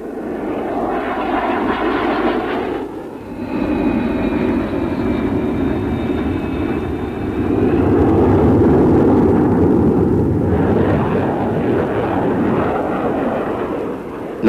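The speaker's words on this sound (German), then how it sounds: "An Bord befinden sich 36 Flugzeuge des Typs F-14 Tomcat, die modernsten trägergestützten Jagdbomber der NATO." F-14 Tomcat jets on an aircraft carrier give off a loud, sustained engine roar that swells and shifts, with a high whine through the middle and a deeper rumbling surge later.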